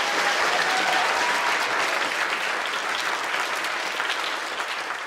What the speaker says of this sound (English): So a big round of applause for you two.